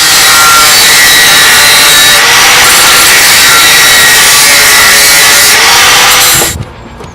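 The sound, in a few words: cutting material to size, sawing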